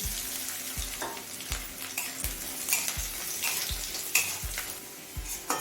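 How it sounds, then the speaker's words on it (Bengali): Chopped garlic fries with nigella seeds and dried red chilli in oil over a medium flame, a steady close sizzle broken by regular scraping strokes of a spatula stirring the pan, with no talk. "রসুনটা নাড়তে নাড়তে মিডিয়াম ফ্লেমে কিছুক্ষণ ভেজে নেব"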